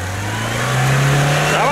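A car engine revs hard up close, its loud drone climbing steadily in pitch over a couple of seconds as the driver tries to power the car out.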